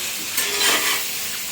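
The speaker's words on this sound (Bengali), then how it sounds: "এখন ভাজা চলছে, সেই ঐতিহাসিক মুহূর্ত, আলু গাজর ভাজা" Potatoes and carrots frying in a heavy pan, giving a soft, steady hiss with a brief swell of sizzle in the middle, fairly quiet and with no voices.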